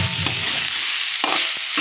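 Food fries in a pan with a steady, loud sizzle close by, with short bursts of stirring scraping through it and no talk.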